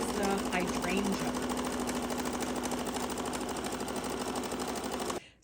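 An embroidery machine stitches a straight placement line for a navy-themed sampler block, a steady dense mechanical whir running nearly continuously before cutting off abruptly near the end, with no talking over it.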